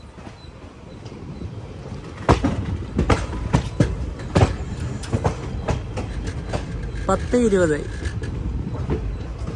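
The Chemmozhi Express sleeper train rumbles toward Mayiladuthurai Junction, its wheels clacking sharply in irregular bursts over rail joints and a brief squeal near the end, with a voice speaking over the noise.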